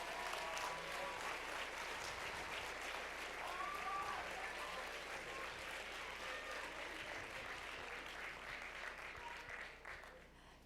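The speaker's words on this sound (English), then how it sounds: "let's give him a huge round of applause." A crowd at a high school signing day ceremony gives a sustained round of applause, dense and fairly distant, with indistinct voices mixed in. The clapping holds steady for about nine seconds, then thins and fades.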